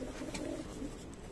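Pigeons cooing inside a breeding cage built like a budgerigar cage, with a front cage section and a nesting area, a steady low throaty coo rolling close by and continuing throughout.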